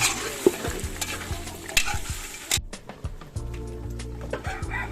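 Food being stirred in a pot over heat, repeated scraping strokes over a sizzle that drops sharply halfway, with chickens clucking faintly in the background.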